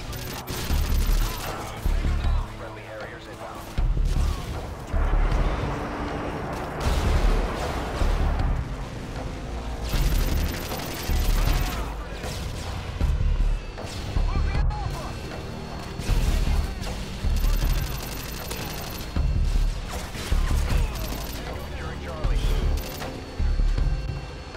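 Machine pistol gunfire from Call of Duty: Modern Warfare 2 comes in loud repeated rapid-fire bursts separated by short pauses, with clattering mechanical handling noises in between.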